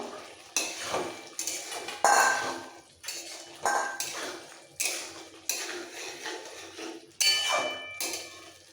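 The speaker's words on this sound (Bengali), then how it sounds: "এই মশলা কষানোর সময় ভেজে রাখা আলুগুলো সবার আগে দিয়ে দিচ্ছি" Fried potatoes tipped into spices in a cooking pan, a series of sharp metallic clanks and scraping stirs repeated about every second, close and fairly loud, with no talking.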